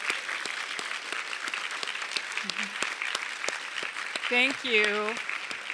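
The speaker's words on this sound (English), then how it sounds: "let's give all of our panelists a round of applause" Audience applause for the panelists closing a session at a Gulf Scholars Program conference, a steady dense clapping throughout with a voice speaking briefly over it near the end.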